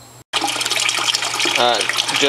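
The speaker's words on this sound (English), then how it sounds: "It is decent pump. You know, pumps in a decent amount of water." A small water pump pushes a steady, loud stream of rushing, splashing water. A brief cutout comes near the start, and voices talk over the flow.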